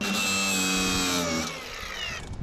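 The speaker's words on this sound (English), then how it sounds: "Grabbing the drill. Cutting the end off of it and putting it right in the drill to use the drill to tighten it up." A handheld power drill whines at high speed driving a bolt tight, its pitch sagging as the load builds before it stops, close and loud, about two seconds.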